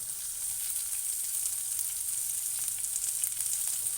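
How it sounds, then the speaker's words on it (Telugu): Chopped onions fry steadily in a pan for upma, a soft continuous sizzle with faint crackles, fairly quiet and even throughout, no voices. "ఫ్రెండ్స్, ఉల్లిపాయలు వేగుతున్నాయి కదా"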